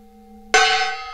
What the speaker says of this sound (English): Well, while I have it out, I'll hit the gong there